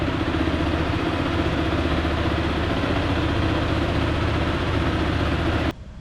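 A Zontes ZT 350 ADV T2 single-cylinder motorcycle idles with a steady, even engine drone that holds close and constant, then cuts off abruptly near the end.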